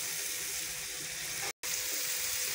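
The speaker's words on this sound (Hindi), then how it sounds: "इसको फ्राई करते हैं ऑयल में।" Oil crackles with a steady, moderate sizzle over a medium flame, frying for chicken handi. The sound breaks off for a brief gap partway through.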